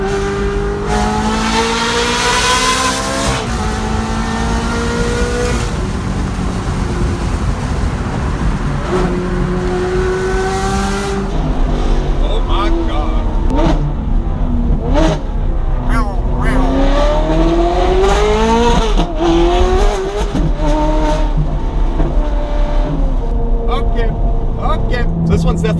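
A straight-piped Ferrari 430 engine revs loud and close, its harmonics sweeping up and down through repeated sharp throttle blips and sustained pulls, with people talking over parts of it.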